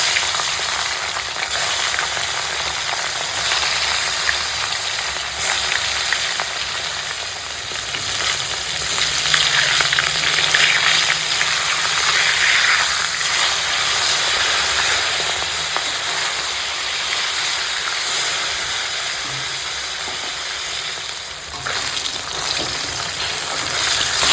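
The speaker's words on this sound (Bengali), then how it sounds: "তেল গরম হয়ে গেছে এখন আমি মাছ কটাকে ভেজে নেবো" Fish pieces fry in hot oil, giving a loud, continuous hissing sizzle that swells and settles, with occasional spatters and no talking.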